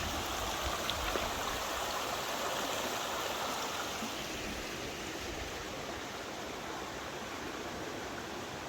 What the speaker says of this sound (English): This must be Trout Creek